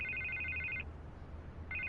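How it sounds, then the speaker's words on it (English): A telephone rings in Batman: The Telltale Series, two bursts of a bright electronic trilling tone separated by a short quiet gap over a faint low background hum. "I can't get the phone to stop ringing."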